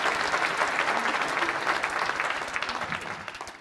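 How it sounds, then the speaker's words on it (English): Conference audience at a tech event applauding game show winners, a full, steady round of clapping from a large crowd that tapers slightly at the end. "Give them a big, big, big round of applause."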